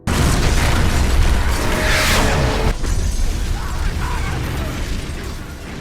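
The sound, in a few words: explosion in an action film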